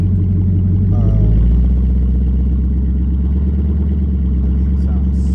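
A 2021 Toyota Tundra with a straight pipe exhaust idles and revs close by, a loud steady low rumble with a brief rise in pitch near the start, and a voice talks over it.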